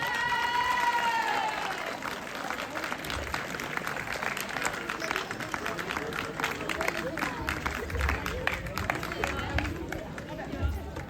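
A crowd applauds with dense, steady clapping at a Miss and Mister pageant, mixed with cheering and background chatter. A voice speaks briefly at the start.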